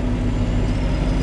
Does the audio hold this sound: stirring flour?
no